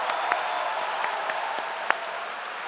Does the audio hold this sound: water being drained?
no